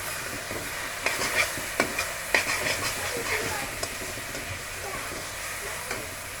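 Fish with eggplant, onion and green chili sizzles steadily in a pan, with a continuous frying hiss and occasional stirring scrapes and clinks close by.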